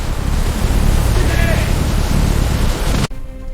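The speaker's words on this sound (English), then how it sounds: "Engine spooling up while I initiate full thrust." A military drone's jet engine spools up to full thrust in a loud, dense roar that holds steady for about three seconds before cutting off abruptly.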